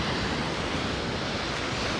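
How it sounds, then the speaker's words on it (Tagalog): Broad, continuous roar of surf and crashing ocean waves, loud and close, with wind blended in and no voices. "lakas-lakas ng alon"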